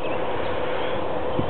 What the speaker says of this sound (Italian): questo è il rumore degli impianti